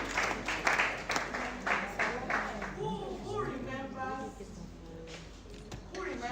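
Workshop audience for parents and caregivers applauding, a burst of dense clapping in the first few seconds that gives way to talking voices while scattered claps fade out.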